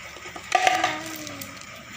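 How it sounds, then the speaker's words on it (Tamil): A coin drops into a handmade cardboard coin box and rattles down its zigzag chute, a short bright clatter of hits followed by a fading ringing slide, close and alone. "காயின் போட்டால் அந்த ஜிக்ஸாக் டைப்பில் போகுது பாருங்கள்,"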